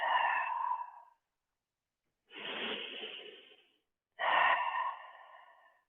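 Slow, deep breaths during a therapeutic yoga session for the upper back and shoulders: three long, unhurried breath sounds separated by silent pauses, close and clear, with no talking.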